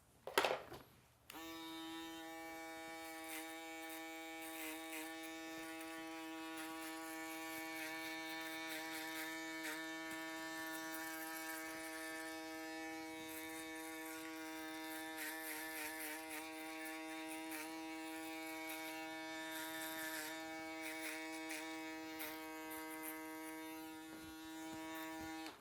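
An electric foil shaver buzzes steadily and close up through a barber class neckline trim, a constant harmonic hum running almost unbroken for the whole span after a brief opening knock.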